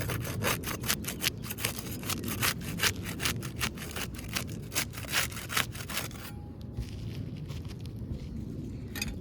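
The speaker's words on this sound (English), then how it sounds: "We'll use the putty knife to unseal the top shingle." A putty knife scrapes and rasps under sealed asphalt roof shingles, prying them loose in a steady run of close, rhythmic strokes that stop near the end, leaving quieter rustling.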